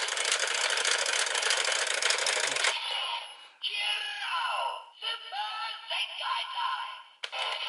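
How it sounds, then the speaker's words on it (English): A PowerRider vehicle toy or game device plays its electronic engine sound: a dense buzzing rev for about three seconds, then a chain of shorter synthetic swoops and whirs with brief gaps, close and clear. "there we have the vehicle sound"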